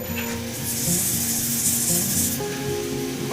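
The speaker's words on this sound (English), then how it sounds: "So I'm going to hit that again with some sandpaper." Sandpaper rubs against a wooden shaving brush blank spinning on a lathe, giving a steady hissing scrape under the hum of the machine, with a brighter stretch of sanding in the middle.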